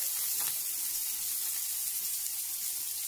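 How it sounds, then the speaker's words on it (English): Little octopus tentacles sear on a hot griddle, giving a steady bright sizzle with a soft low hum underneath and a brief thump near the start. "It's really just about searing it."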